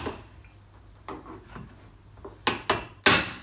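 A hammer striking a chisel to shave off a plastic grille retainer on a Ford Focus, a few sharp taps spaced apart then three louder close blows near the end, no talk.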